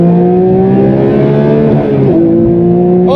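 A Porsche 911 GT3 Touring of the 992 generation, with a manual gearbox, revs hard and loud on the autobahn, its engine note held high and climbing briefly before a shift drops the pitch.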